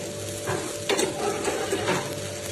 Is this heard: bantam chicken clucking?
no